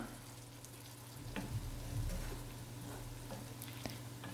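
Carrots sauté in oil with a little water and salt added, making a continuous, close sizzle that swells slightly midway with soft stirring scrapes and no talking.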